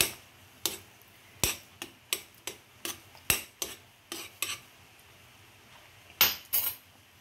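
A utensil stirring oatmeal in a bowl, knocking and scraping against the side in a quick series of sharp, close clinks with short pauses, no talking.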